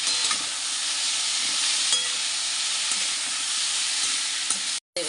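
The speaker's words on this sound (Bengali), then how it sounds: "আমি ডাঁটাটা এর সঙ্গে ভেজে নিচ্ছি।" Bottle-gourd leaf stems frying with prawns in a pan give a steady, loud, close sizzle with faint stirring clicks, running alone without pause until a brief dropout near the end.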